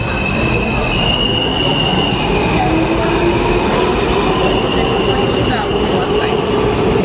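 A train rolls by up close, loud and continuous, with a steady clattering rumble and long high-pitched wheel squeals. Faint voices sit under the roar.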